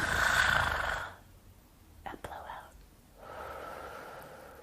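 Children imitating snoring apes, making breathy snoring and blowing sounds after a big breath in; soft, close breaths with a quieter pause between, alongside a voice.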